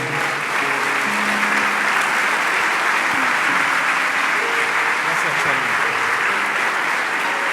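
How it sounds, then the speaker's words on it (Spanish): Congregation applauding during a church service, a loud, continuous wash of clapping that holds steady, with murmuring voices and faint tones underneath. "Queremos terminar dándote las gracias y dándote un aplauso fuerte porque lo mereces, Señor."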